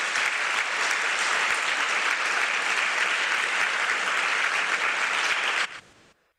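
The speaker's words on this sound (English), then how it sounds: "Let's welcome him with a round of applause." An audience at a Nobel Peace Prize conference in Tokyo claps for a speaker, a dense, steady burst of applause that runs loud for over five seconds, then quickly dies away.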